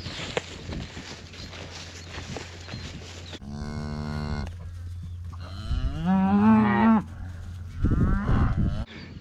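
Tame cattle low several times on a farm, deep drawn-out moos from close by with one rising, strained call, separated by gaps of low rumbling background and shuffling.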